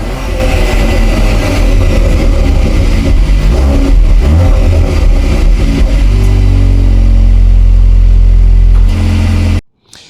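A sports car engine revs hard and loud with its exhaust valves open, a deep, throaty roar holding high before dropping off abruptly at the end.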